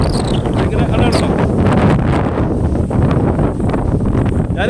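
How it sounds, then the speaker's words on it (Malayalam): Strong wind at the Kattadikadavu rock viewpoint batters the microphone with loud, continuous roaring gusts and low rumbling buffeting, heard alone without a break. "പക്ഷേ അത്ര കാറ്റാണ്"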